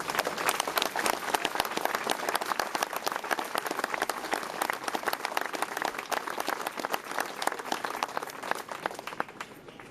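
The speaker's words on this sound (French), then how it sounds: "Et je voudrais que vous les applaudissiez très fort," A crowd at a commemoration speech in Valence applauds a group of senators, sustained dense clapping that stays strong and even for the whole stretch with no talk over it.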